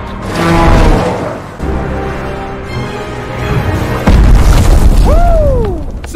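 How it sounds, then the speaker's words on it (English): A heavy booming impact from a superhero landing in the Deadpool film's final battle hits suddenly amid loud action-scene noise and music, followed by a short rising whoosh-like tone. "Superhero landing."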